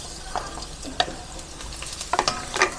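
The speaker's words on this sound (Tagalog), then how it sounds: "Yan, may mantika na yung ating kawali. Igisa natin una ang luya." Ginger and garlic sautéing in hot oil in a pan, a soft steady sizzle with scattered pops and light stirring clicks, close and fairly quiet.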